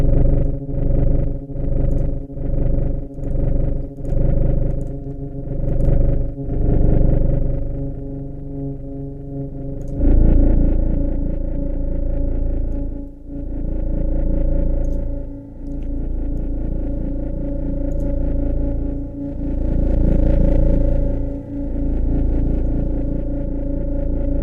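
A Waves Flow Motion synth plays with two-voice unison. A run of evenly spaced repeated notes gives way to a sustained, thick, loud chordal pad with gentle swells, and no voice is heard.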